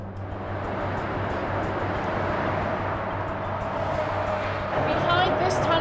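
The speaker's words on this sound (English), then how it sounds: "So the noise is... This is traffic" Road traffic rumbles through the west tube of an A2 motorway tunnel, a steady, dense, reverberant roar that holds at an even level and swells slightly near the end.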